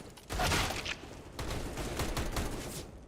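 Rapid gunfire bursts from a Counter-Strike esports match, including a Tec-9 pistol, crackling in dense overlapping volleys throughout with a louder flurry near the start.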